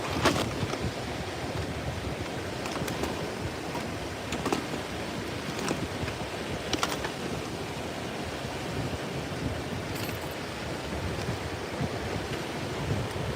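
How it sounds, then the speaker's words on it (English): Sea surf breaking on a UK beach during a fishing session, a continuous broad rush of waves with periodic swells and some wind buffeting on the microphone, fairly close, no talking. "Nice bit of surf coming through from something."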